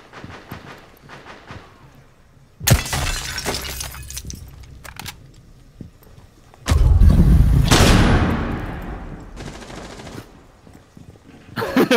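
A glass window shatters in Rainbow Six Siege as a player crashes through it: a loud breaking burst followed by scattered crashing and gunfire, with a second heavy impact and rumbling debris later.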